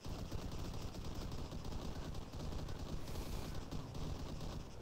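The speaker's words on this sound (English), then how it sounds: "I don't know where the shots are coming from." Dense, continuous gunfire fills an Arma 3 battlefield at low volume, a steady crackle of overlapping shots with no clear gaps between them and no voices heard.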